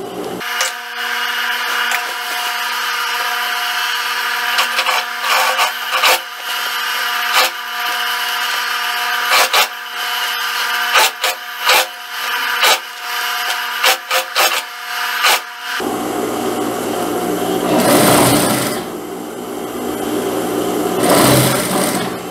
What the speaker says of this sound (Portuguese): vou iniciar passando o pespontozinho aqui na parte de baixo